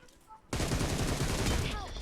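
Rapid bursts of automatic gunfire from a PUBG Mobile battle erupt loud and close after a short quiet lead-in, the shots pounding in a dense, continuous fusillade.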